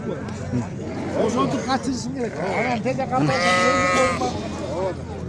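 Sheep and lambs bleat at the Sokuluk livestock market, their wavering calls rising over a steady crowd murmur and nearby talking, with one long, clear bleat standing out near the end.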